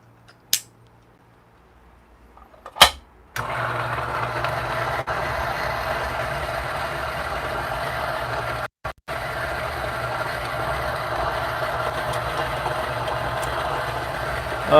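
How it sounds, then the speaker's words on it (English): Niche coffee grinder grinding coffee beans: after a few quiet seconds and a sharp click, a loud, steady motor whir runs continuously, briefly cutting out once midway before resuming. "I'm just gonna grind some coffee beans here right now. And I'm using a niche grinder."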